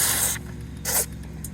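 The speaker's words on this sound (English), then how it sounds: "I'm just going to spray some lithium grease in here." Lithium grease sprayed from an aerosol can into an old McCulloch 10-10 Automatic chainsaw, a loud steady hiss that cuts off, then a second short burst and a faint brief puff, alone over low background hum.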